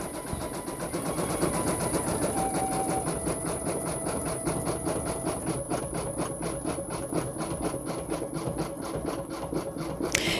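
An embroidery machine steadily stitches a black-thread name onto a T-shirt, giving a continuous, fast, rhythmic mechanical chatter with a high whine running through it, close and unbroken from start to finish.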